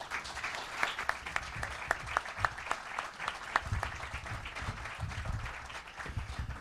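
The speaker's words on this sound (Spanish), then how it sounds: "No aplaudáis porque se viene arriba y vuelve a empezar" Audience applause at a Spanish poetry book presentation, a steady wash of many hands clapping with sharper individual claps standing out, filling the room for several seconds with no voices over it.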